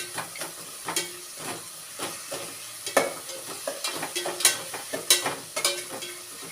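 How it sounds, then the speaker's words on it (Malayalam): Masala fries in a pan while being stirred, steady sizzling hiss punctuated by repeated rhythmic scrapes and knocks of the spoon against the pan, fairly close. "പച്ചമണം മാറുന്നോളം വരെ നമ്മൾ ഇളക്കി കൊടുക്കണം"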